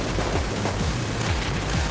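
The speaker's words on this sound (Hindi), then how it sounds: "गैटलिंग गन निकालो और गोलियां चलाना बंद मत करना" Rapid, continuous gunfire roars without pause, dense and loud like a rotary gun spraying in a game, with no speech over it.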